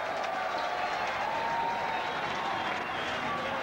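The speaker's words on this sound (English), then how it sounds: "And the crowd are ecstatic." A cricket crowd at a one-day international in Dunedin, New Zealand, applauds a boundary with steady, dense clapping and cheering at a distance, continuous throughout.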